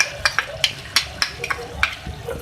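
Chopped coriander being stirred into frying chicken and cauliflower gobhi, with a series of soft scraping stir strokes over a faint steady sizzle in the pan.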